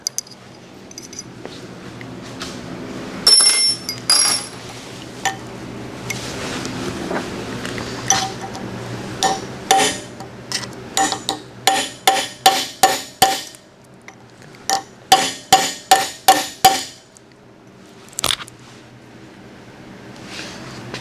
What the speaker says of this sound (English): So we're going to take a pin punch and see if we can tap those out